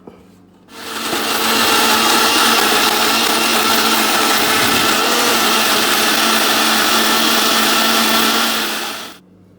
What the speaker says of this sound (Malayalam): മിക്സിക്കകത്തിട്ട് അടിച്ചെടുക്കാൻ പോവുകയാണ്.